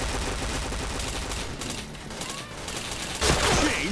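Rapid gunfire from a first-person shooter game, bursts of shots layered over a busy game mix with a louder burst near the end, a voice faintly present in the background.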